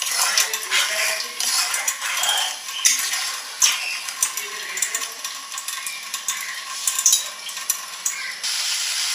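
Grated beetroot being stirred with salt and turmeric in a pan, a spatula scraping and clinking against metal in irregular strokes over a faint low sizzle, close and fairly quiet.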